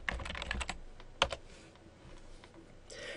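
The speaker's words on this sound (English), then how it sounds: "I'm going to go ahead and type contact" Typing on a computer keyboard while entering contact information into a web page in Dreamweaver CS5: a quick run of close clicky keystrokes, a brief pause, then a couple of louder isolated taps, with no talking.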